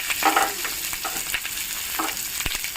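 Cumin, dried red chillies, green chillies and onion sizzle steadily in hot oil in a pan, with soft stirring scrapes and crackles close up and no voices.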